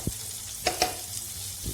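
Butter sizzling in a hot pan as the base for a white sauce, a steady frying hiss with a few sharp clicks of utensils against the pan, close and fairly quiet, with no one talking.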